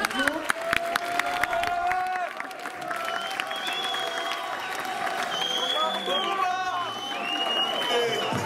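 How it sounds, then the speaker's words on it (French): An audience at a live event applauds a volunteer called up on stage, a dense wash of clapping with crowd noise and cheering filling the whole stretch, loud and close, with some voices mixed in. "Applaudissez-le bien fort."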